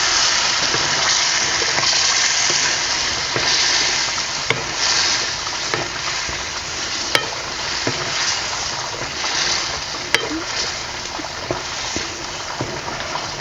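Chole masala simmers and is stirred in a pan, a loud constant bubbling hiss with occasional sharp clicks and taps of the spoon against the pan.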